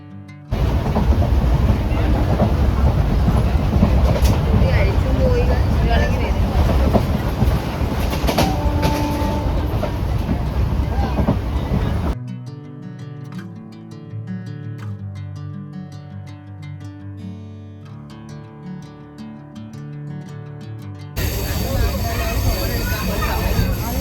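A train pulling into Kanyakumari railway station, loud close rumbling and clattering of rail cars, broken midway by a quieter stretch with music before the heavy train noise returns.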